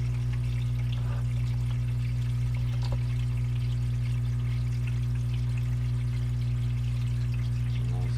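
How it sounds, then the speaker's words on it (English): Water flows steadily through a gold prospecting sluice running on paydirt, a continuous close trickle and pour over a loud constant low pump hum, with no talk. "We got this sluice running. She's flowing great."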